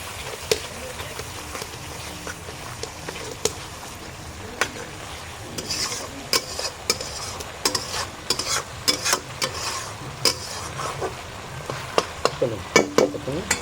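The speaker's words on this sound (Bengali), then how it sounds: "পরিমাণ মতো হলুদ দিয়ে মশলাটা কষিয়ে নেব" Spice paste with turmeric fries in oil in a pan under a soft sizzle, broken by repeated scraping and clacking strokes of a spoon stirring, growing busier toward the end.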